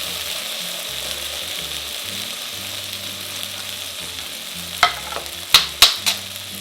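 Chicken sizzles steadily on a George Foreman grill, with a constant close hiss, then a few sharp clacks near the end.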